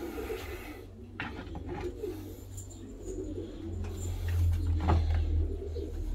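Domestic pigeons, an Afghan hen and a wing-patterned cock among them, coo in a coop, a low steady murmur of cooing throughout with occasional rustles and brief scraping sounds close by.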